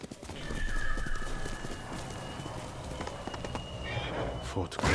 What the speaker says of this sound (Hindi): अरे भाई साहब, हमारा घोड़ा गिर गया।